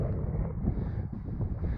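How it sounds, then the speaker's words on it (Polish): Steady wind blowing and buffeting the microphone, a low continuous rumble with no other sounds. "Wieje wiatr"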